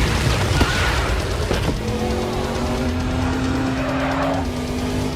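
Cyborg's new race car in the Teen Titans cartoon: a loud, continuous engine roar with screeching tire squeal and skidding, and a rising whine near the end.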